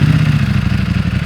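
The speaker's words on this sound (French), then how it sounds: "On va démarrer ici le V4, histoire de vous régaler un petit peu" A Ducati Panigale V4S with its V4 engine idles loud and close, a deep, lumpy throb with a steady pulsing rhythm and mechanical clatter throughout.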